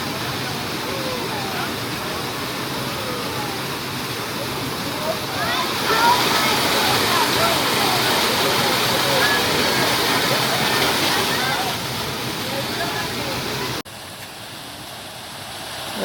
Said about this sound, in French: Là, c'est le deuxième côté de la cascade.